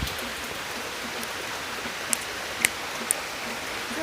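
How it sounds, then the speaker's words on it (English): Heavy rain hisses in a dense, even wash during a tornado storm, soaking a backyard trampoline and plants, with a few sharp drips or clicks standing out near the middle and no talk. "It's heavy rain."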